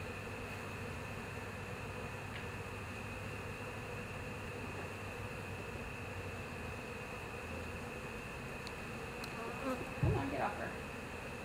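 Honeybees buzzing at an open Canadian hive at a honeybee centre, a dense steady droning hum throughout, with a single nearer bee whirring past near the end.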